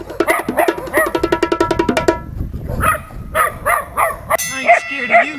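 A tiny 2.5-pound dachshund barks in rapid, sharp yips at close range, a quick burst of regular barks followed by scattered higher yelps and whimpering, with someone talking over some of it.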